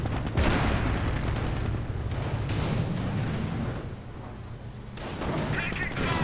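In a strategy video game, a Pershing tank blasts a vehicle, with repeated booming cannon fire and explosions rumbling at moderate level under a commentator's steady talk.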